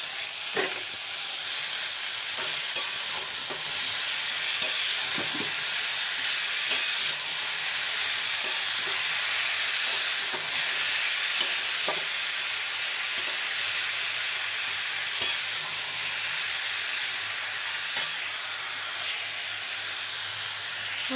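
Futi melon and prawns in a pan give off a continuous moderate sizzle and hiss with light stirring clinks scattered through, close by and steady with no voices.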